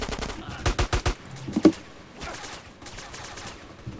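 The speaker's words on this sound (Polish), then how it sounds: "ktoś do mnie pruje cały czas" Gunfire in the multiplayer video game GTA San Andreas Multiplayer: a quick burst of four or five close, sharp shots followed by a single louder crack, with faint game background afterwards.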